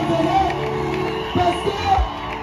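A crowd gathered at an outdoor evangelical rally on an esplanade in Nkombo cheers and shouts in acclaim of a reverend pastor, with whoops and yells rising in bursts over a steady background and voices mixed in.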